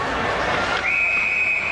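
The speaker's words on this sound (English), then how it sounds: "And the whistle will stop play." A referee's whistle blows one sustained, shrill blast to stop play at a 1992 Memorial Cup junior ice hockey game in an arena, ringing over a steady crowd murmur.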